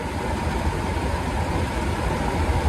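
A carburetted engine fitted with bigger carburetor jets runs steadily at a loud, even drone with a smooth throb and no breaks, heard alone without talk.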